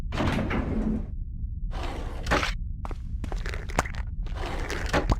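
A character steps through a door in the GameCube game Die Hard Vendetta, with several loud, broad whooshing and sliding bursts separated by short gaps, ending in a sharper clack.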